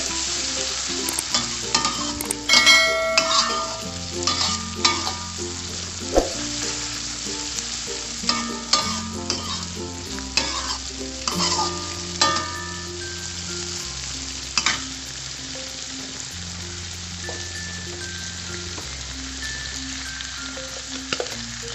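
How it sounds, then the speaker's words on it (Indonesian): A ground spice paste sautéing in a pan for a Padang-style gulai kalio, with a steady sizzle and repeated scraping stirs of a utensil against the pan at an uneven rhythm, close up and without talking. "kemudian kita masukkan bumbu yang telah dihaluskan. Kita tumis lagi ya."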